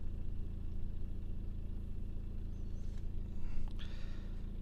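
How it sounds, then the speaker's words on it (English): A BMW 118d diesel with 170,000 miles and a particle filter and glow plug fault sits idling, giving a steady low rumbling drone with a slight swell near the end. "This is just sitting idling and the figures seem to be building again."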